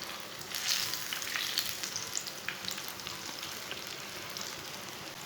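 Eggplant slices frying in oil in a pan give a faint, steady crackle with scattered light pops and some soft clinks, no voices over it.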